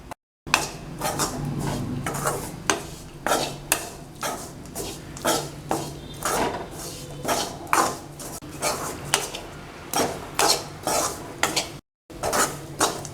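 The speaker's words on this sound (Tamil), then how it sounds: "இப்போ நாம் இதில் மல்லித்தூள் சேர்க்கலாம், மிளகாய்த்தூள் எல்லாம் சேர்த்து நல்லா வறுக்கணும்" Coriander and chili powder roasting in a pan for a squid gravy, with a spoon scraping and clattering against the metal in steady repeated strokes over a faint sizzle, close and fairly loud, no talking.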